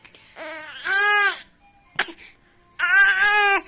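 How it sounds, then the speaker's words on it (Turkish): A baby fake crying in short bursts at home, loud whiny wails separated by pauses and a small catch of breath. "Yalandan ağlıyor"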